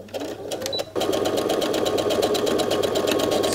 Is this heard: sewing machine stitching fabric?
yes